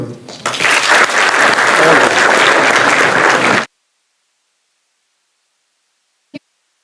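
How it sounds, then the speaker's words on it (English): Loud, dense applause at an inauguration ceremony for a business school ethics centre fills the first few seconds, then cuts off abruptly into silence broken by one brief click. "Can we please again have a huge round of applause?"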